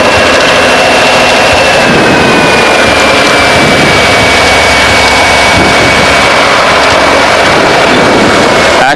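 A Cessna 185 aircraft engine drones loud and steady during a windy taxi, with the propeller and engine roar mixed with constant wind noise and no voices.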